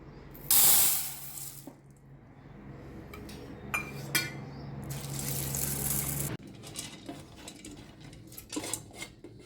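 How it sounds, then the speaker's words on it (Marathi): Lentils for puran poli filling are washed in water, heard as a burst of running tap water, then sloshing, clinking against a metal pot and swirling water over several seconds, moderately close with no talking. "तर आता आपण डाळ धुवून घेऊ"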